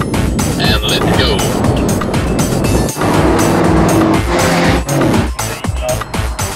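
A Mercedes-AMG car runs a warm-up lap at Willow Springs International Raceway, its engine loud and close, rising and falling through gear changes with brief dips, while people talk over it.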